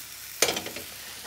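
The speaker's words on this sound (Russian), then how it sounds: "Влагу дали, нужно их жарить, пока влага вся не уйдет, и слегка обжарить." Mushrooms frying in a pan for a cheese-crusted dish: a short clatter of stirring followed by a faint, soft sizzle, with no talking.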